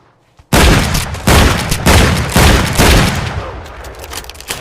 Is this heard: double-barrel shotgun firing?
yes